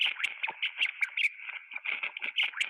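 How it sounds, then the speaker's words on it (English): Small rats at play give off a rapid string of high, thin chirps, each one short and sharp, repeating in a busy, irregular patter close by with no voices. "when the rats were doing something that looked like playing, they'd often make little sounds like this"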